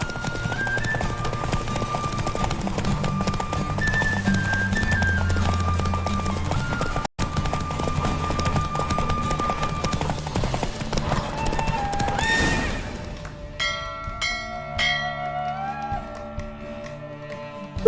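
Rapid rhythmic hoofbeats of a galloping horse under game music in The Witcher 3: Wild Hunt, steady and driving, fading to lighter music and chimes toward the end.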